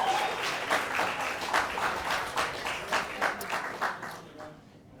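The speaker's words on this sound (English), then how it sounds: "Round of applause" An audience applauds at a Year 12 graduation ceremony. The clapping is moderately loud, with a rhythmic pulse emerging as it goes on, then thins and fades out near the end.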